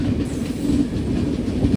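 A Garib Rath express train runs on the rails between Hyderabad and Bengaluru, its steady, close rumble and low clatter filling the whole stretch before a brief dropout near the end.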